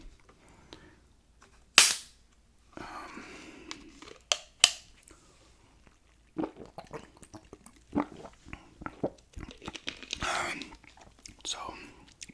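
A can of Mountain Dew is cracked open with a sharp hiss, followed by close, quiet sips, swallows and small mouth sounds in a hushed setting.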